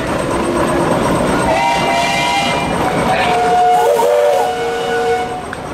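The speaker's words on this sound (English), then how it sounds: "Any whistles, Danny?" A Minneapolis steam traction engine at a steam power show in Sycamore, Illinois, sounds its whistle in sustained tonal blasts over loud outdoor machinery and crowd noise.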